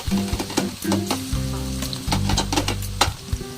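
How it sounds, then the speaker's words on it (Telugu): Cloves, cumin seeds and green chillies fry in a hot kadai for a chicken curry, giving a loud, steady sizzle with bursts of crackling and a few stirring scrapes, with no voices. "ముందుగా కడాయి పెట్టుకొని అందులో లవంగాలు, జీలకర్ర, పచ్చిమిర్చి,"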